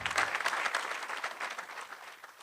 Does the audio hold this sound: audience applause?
yes